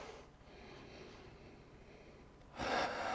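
Deep breath drawn in during a yoga session, a faint airy inhale that swells into a louder rush near the end, alone with no talk.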